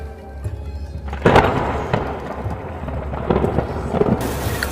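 A thunder sound effect in a spooky audio story: a sudden close boom gives way to a long low rumble with scattered cracks and no voices.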